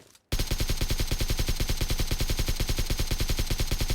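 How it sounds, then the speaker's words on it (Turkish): Rapid automatic gunfire in PUBG Mobile, a loud, close, evenly spaced burst of shots that begins abruptly after a short quiet moment and rattles on continuously without pause. "Vallahi vurdum. İkisini de vurdum hatta."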